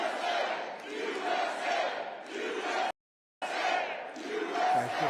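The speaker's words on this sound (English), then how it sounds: "What a nice crowd." A large crowd at a political rally in Iowa cheers and shouts loudly and continuously, broken by a brief silent gap before the roar resumes.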